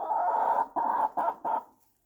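Chickens cluck in a barn in the morning, giving a series of four close, mid-pitched clucking bursts, the first long and the others shorter, before fading to quiet.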